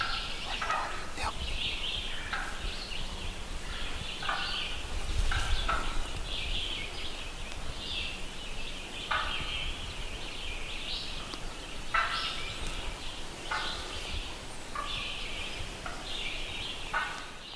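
A young wild turkey jake gobbles again and again outdoors, the bursts coming every second or two at moderate distance, rough and rattling over light background noise.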